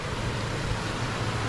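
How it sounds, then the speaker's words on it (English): A creek flowing near a home's outdoor sitting area, heard as a steady broadband rush of water with no breaks, moderately loud. "overlook and listen to that creek"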